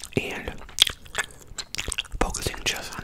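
Close, wet gum chewing with fast, aggressive smacks and crunchy bites, mixed with soft whispering and hand sounds in an intimate, near-microphone setting.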